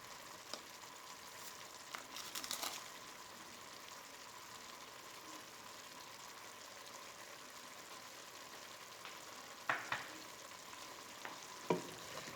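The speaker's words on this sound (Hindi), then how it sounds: "फिर थोड़ी देर के लिए गोभी को इसमें भूनेंगे" Cauliflower and potatoes fry with spices in a pan for aloo gobi, a faint steady sizzle with a few sharp clinks and stirring scrapes.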